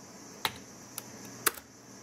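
A few sharp, isolated key presses on a computer keyboard, three quick clicks spaced about half a second apart against a quiet room hiss.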